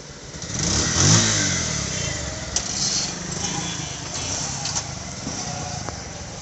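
A 2021 Bajaj Pulsar double disc motorcycle engine runs nearby, swelling in a rev early on and then settling into a steady, rough idle, with some talk in the background.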